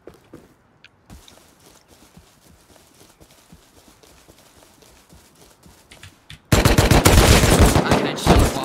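Rapid bursts of gunfire from a multiplayer shooter match, faint scattered shots at first, then a loud, dense stretch of continuous firing near the end.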